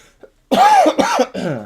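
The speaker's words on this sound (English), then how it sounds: "The lingering cough is killing me." Several harsh, chesty coughs from a lingering cough in quick succession close to the mic, following a short faint throat noise, with no talking.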